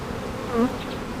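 Honeybees in a colony being inspected hum steadily at close range with no voices, a brief louder swell rising midway through the short stretch.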